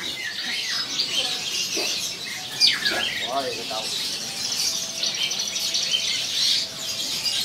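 A jalak suren, or Asian pied starling, sings inside a bird kiosk, giving varied chirps and whistled phrases over a busy hiss of other caged birds.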